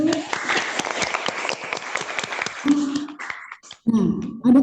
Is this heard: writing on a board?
no